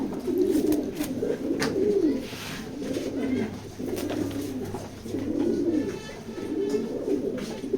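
A male pigeon in a loft coos in repeated rolling phrases, about five or six throaty bursts in a steady rhythm, close and fairly loud over a faint background hum.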